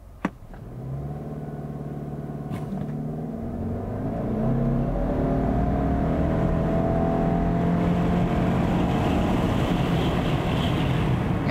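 A 2022 Subaru Outback Wilderness accelerates hard on a test run, its engine note climbing steadily in pitch and growing into a loud, sustained rumble and whir heard from inside the cabin, with no talking.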